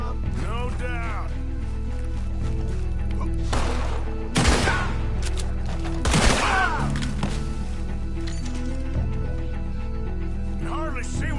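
Red Dead Redemption 2 gunfire breaks out in several close, loud bursts of shots and crashes over a steady background, with voices speaking between the volleys.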